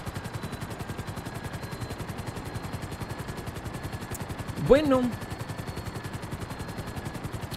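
A Sparrow helicopter in GTA 5 Online, its rotor chopping in a steady fast rhythm throughout, with a brief louder burst near the middle and a voice speaking briefly.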